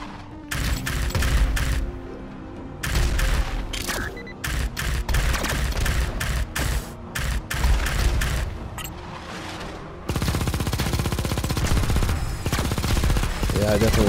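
Rapid machine-gun fire in the space shooter Xenoraid, loud dense bursts of automatic shots with brief gaps, then a long unbroken stream of fire toward the end, with explosions mixed in.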